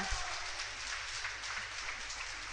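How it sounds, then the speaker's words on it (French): A crowd applauds at a boules match in a packed boulodrome, a faint, even patter of clapping that holds steady throughout, with no voices. "Vous avez pu entendre les applaudissements du public"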